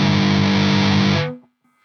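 A 7-string guitar played through a Joyo Zombie distortion pedal rings out in one loud, thick, heavily distorted sustained chord that cuts off abruptly after about a second and a half, leaving faint hum.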